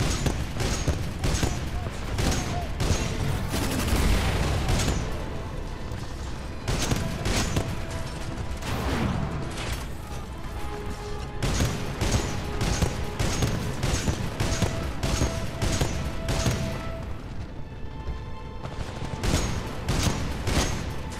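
Gunfire in the first-person shooter Titanfall 2 cracks out in rapid bursts and sharp single shots throughout, dense and loud, with occasional heavier booms mixed in.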